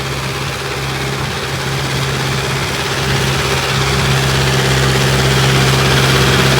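A Mahindra CRDI 655 tractor diesel engine idles in a constant, even low throb with a steady hum and slight vibration, close and loud throughout.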